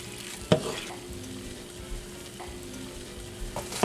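Seasoned BBQ chicken with extra barbecue sauce is stirred in a skillet: a few sharp spoon scrapes and clacks over a low, steady sizzle, close and fairly quiet.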